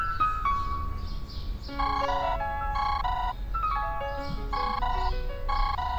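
A phone rings with a bright, repeating electronic melody ringtone, the tune cycling steadily and loudly on its own, with no voices over it.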